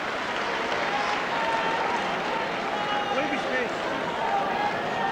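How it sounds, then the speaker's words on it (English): Dense, steady roar of a boxing crowd cheering during a fourth-round professional bout, a continuous wash of many voices with no pauses, loud and close throughout. "Just listen to the crowd."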